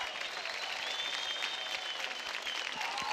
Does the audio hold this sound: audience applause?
yes